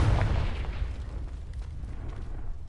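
Confringo spell explosion in Hogwarts Legacy, a heavy booming impact at the start fading into a long rumbling roar that lingers to the end.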